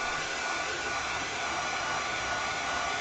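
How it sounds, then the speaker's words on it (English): A handheld dryer blows over acrylic paint on boards, giving a steady, close, unbroken whooshing whine with no talking. "Keep your dryer back a little bit so you don't get bubbling."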